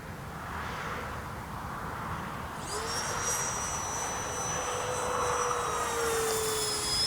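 3D printed RC jet flying overhead, a steady high electric whine and rushing whoosh that rises in pitch and swells as it passes, heard alone over faint outdoor wind.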